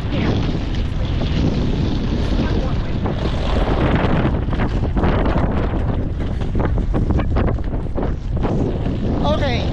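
Cold, strong wind buffeting the microphone outdoors at Oakland airport, a continuous roaring gust that swells and dips throughout.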